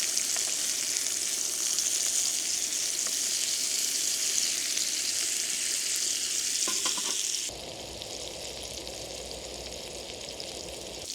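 Steady, close sizzling of meat frying in a small pan on a fishing trip, loud and continuous, with a brief stir before the sizzle drops slightly quieter.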